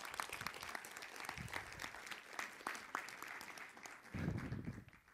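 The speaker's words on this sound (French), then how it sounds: "Est-ce qu'on peut applaudir Lorraine?" A church congregation applauds Lorraine before her baptism, a faint, steady patter of many hands clapping with distinct claps standing out, and a low rumbling swell near the end.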